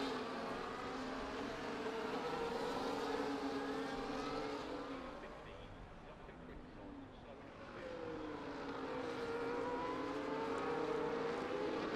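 Race cars rumble through a sim racing caution lap at Barcelona, engines droning and swelling as the field weaves to warm tires, fading briefly before building again beneath a commentator's voice.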